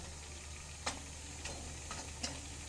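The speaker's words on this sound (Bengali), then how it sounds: "এই তেলের মধ্যেই আমরা ভেজে নেব বড়িগুলো।" Lentil dumplings fry in hot oil over a lowered gas flame, giving a faint, steady sizzle broken by a few sharp pops, with no talking.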